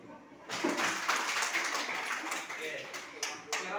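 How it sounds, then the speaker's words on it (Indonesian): A classroom of pupils claps together in a burst of fairly loud, dense hand clapping that carries on for a few seconds before thinning out. "tepuk tangan dulu"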